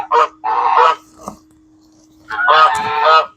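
Several loud, harsh honks from geese close by, in two short bursts separated by a brief pause.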